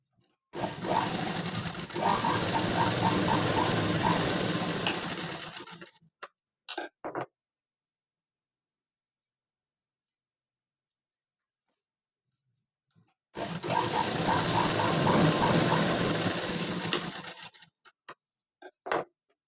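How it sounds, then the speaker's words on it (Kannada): A sewing machine runs in two close bursts of rapid, ticking stitches while marking dots on blouse fabric, with a few short clicks after each run and a long silent gap between them. "ಅದಕ್ಕೆ ಫಸ್ಟು ಡಾಟ್ಸ್ನ ಸ್ಟಿಚ್ ಮಾಡ್ಕೊಳ್ಳೋಣ"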